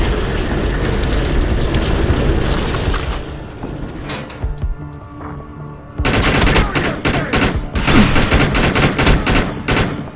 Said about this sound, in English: Guns are gonna keep firing until you shut down the generator.